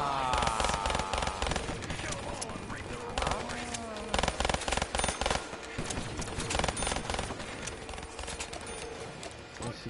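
Rapid video-game gunfire rattles in dense bursts and single cracks, mixed with scattered shots and game effects throughout.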